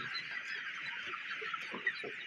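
A flock of desi chickens on a farm clucking and murmuring steadily at feeding time, close by, with a dense chorus of overlapping calls and no talking.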